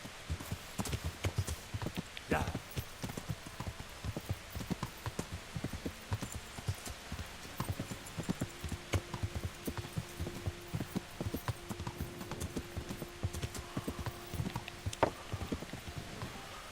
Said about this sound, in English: Yo voy en caballo, como la gente seria.